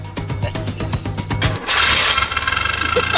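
A vehicle engine with harmonicas strapped to its exhaust sputters with uneven pulses, then revs into a loud, buzzing, reedy drone with a rapid rhythmic flutter, close by.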